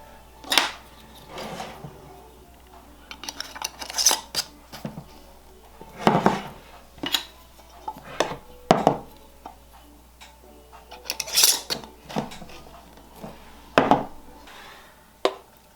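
Metal screw bands threaded onto quart canning jars of beef and tightened fingertip tight, giving a series of sharp clicks and scrapes at irregular intervals, fairly close, with no talking.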